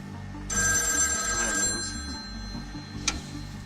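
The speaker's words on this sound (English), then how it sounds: "a ringing phone was almost violent, and you couldn't ignore it." A telephone rings in the empty, silent Mojave Desert, a bright electronic-sounding ring lasting a few seconds and ending in a short sharp click, with no voices or traffic around it.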